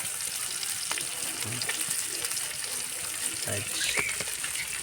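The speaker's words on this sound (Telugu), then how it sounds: "చిన్న చిన్న ముక్కలు ఇలా ఫ్రై చేసుకుంటే చేప ముక్కలు చాలా టేస్ట్గా వస్తాయి" Small fish pieces fry in a little oil, a moderate, steady sizzle with occasional soft pops and clinks, heard close and without speech.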